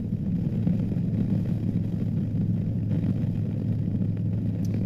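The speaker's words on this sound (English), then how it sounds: "I'm running the SPC Concepts big bore, and it's a great exhaust" A Harley Low Rider ST motorcycle with an SPC Concepts big bore exhaust rumbles steadily at cruising speed, a deep continuous engine drone with wind noise, no talk.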